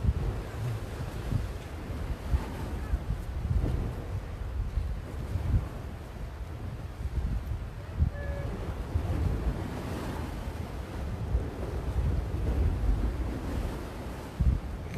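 Big tidal surf rolls onto the shore at a fishing spot, with a constant wash of breaking waves and heavy wind buffeting the microphone.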